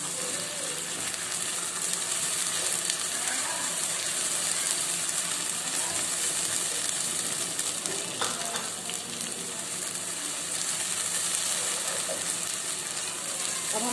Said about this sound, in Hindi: अब हम इसमें लहसुन अदरक का पेस्ट डाल के भूनेंगे इसको।